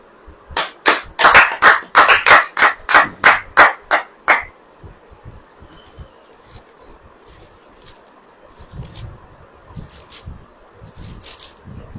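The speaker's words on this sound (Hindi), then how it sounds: "ताली वाली बजाओ भाई।" Congregation clapping in a church service: about a dozen loud, sharp, evenly spaced claps in quick rhythm, ending abruptly and followed by quiet room murmur with faint scattered sounds.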